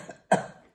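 A single harsh cough from a sick person with painful lungs, one short close burst after a soft breath, otherwise quiet.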